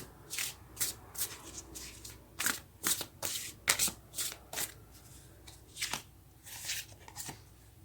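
Tarot cards are shuffled by hand in a quick series of crisp riffling and slapping bursts, close and fairly soft, with no talking.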